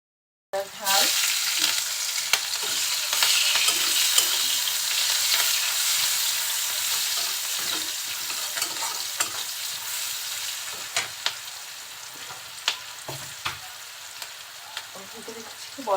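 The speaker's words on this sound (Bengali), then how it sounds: "মশলাটা একটু তেলের সাথে কষিয়ে নিচ্ছি যাতে মশলার কোনো কাঁচা গন্ধ না থাকে।" Chopped onion, chilli and a little spice paste of ginger and cumin fry in oil in a wok, sizzling steadily and loudly nearby, broken by frequent clicks and scrapes of stirring.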